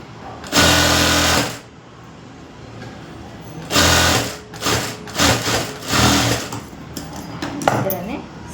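Sewing machine stitching a princess cut blouse, running in several bursts: one long loud run, then a series of shorter stop-start stitching passes close by.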